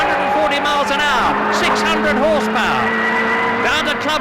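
A 600-horsepower touring car from the 1990 British Touring Car Championship races round Silverstone, heard from onboard. The engine drones loud and constant, its pitch sweeping up and down through gear changes, while a commentator talks over it.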